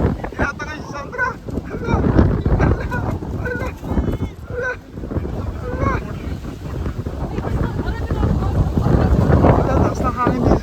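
Strong gusting wind at Odaiba, Tokyo roars and buffets the microphone while people talk and exclaim over it, loud and close.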